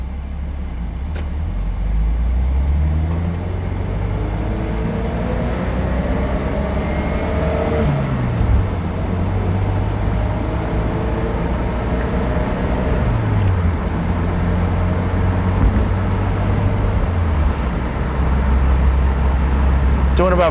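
A 2007 Saturn Sky Red Line pulls away in first gear on a hot day, its engine drone climbing and shifting through gears, a steady close rumble with road noise throughout.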